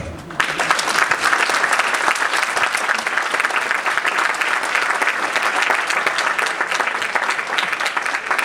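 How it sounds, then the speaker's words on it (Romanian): Audience applause greets the graduates of a ballet school at the end of a season performance, loud and sustained dense clapping from a large crowd throughout with no pauses. "să întâmpinăm cu aplauze absolventele Casei de Balet"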